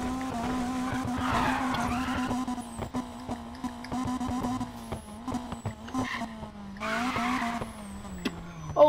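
A car in the Need for Speed video game skids after the e-brake is pulled, with long tire squeals over a steady engine drone and a few sharper screeches near the end. No one speaks.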